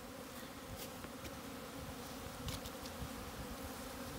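Swarm of honeybees flying out of a hive's top entrance at an apiary on their first spring flight, a steady dense buzzing hum with individual bees zipping close by now and then, no talk.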